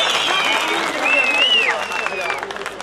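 Applause fills an outdoor political rally, a dense wash of clapping from a large crowd that holds steady for a few seconds, with a loud voice and some background tones over it.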